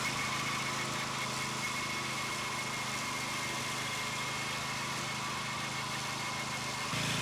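BCS gear-driven walk-behind tractor with a 26-inch mower deck running steadily on a slope, a continuous buzzing small-engine drone with mechanical whir, even and unbroken.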